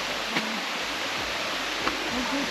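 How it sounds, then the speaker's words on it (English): At the base of Huay Kaew waterfall in Chiang Mai, a steady broadband roar of falling water fills the scene, with faint voices and a few small knocks in the background. "So here we are at the base of it, and you can walk way up to that waterfall at the top."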